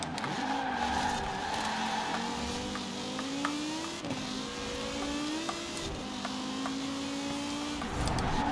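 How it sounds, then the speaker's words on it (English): Audi Quattro or Lancia 037 rally car in Forza Horizon 4, engine revving and wavering continuously while the tyres skid and squeal under repeated handbrake pulls, loud and close with no talk. "Keep pulling the handbrake."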